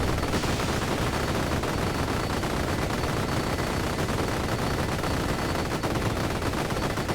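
Rapid gunfire from the long gun weapon in Vampire Survivors on PS5, a dense, continuous barrage of shots with no pauses throughout.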